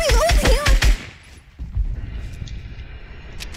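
Fortnite gunfire as a player shoots through his own floor, with a few sharp shots at the start over a player's voice, then rumbling impacts and scattered quieter cracks.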